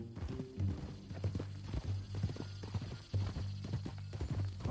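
Horse hooves clip-clop at a steady walking rhythm in the video game Red Dead Redemption 2, the repeated knocks sitting over a low droning background.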